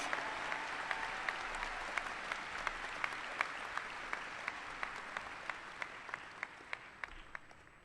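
A round of applause at a high school graduation ceremony, steady crowd clapping heard from a distance in a large venue, with a few sharper individual claps standing out at regular intervals as it gradually tapers off.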